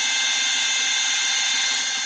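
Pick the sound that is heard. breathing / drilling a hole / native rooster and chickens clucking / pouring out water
drilling a hole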